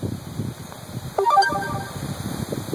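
A short electronic notification chime rings out once over steady outdoor background noise and low rumble.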